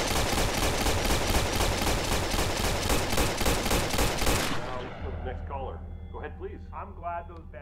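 A dense, rapid barrage of gunshots in a Wall Street attack movie scene hammers away for several seconds, then cuts abruptly to quieter background as someone speaks.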